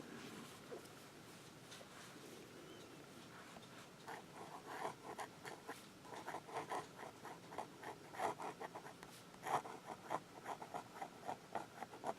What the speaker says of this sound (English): Now do some reverse writing.